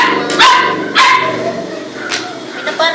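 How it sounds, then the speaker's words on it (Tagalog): A small, young-sounding dog barks in sharp yips, with two loud bursts early on and softer barks later, set against a busy park background. "Maliit yung aso."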